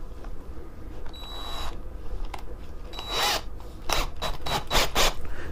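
Drill spinning a hone inside a hydraulic clutch slave cylinder, run gently rather than at full speed; short, close grinding and scraping bursts come in uneven spurts, fairly quiet and without talk.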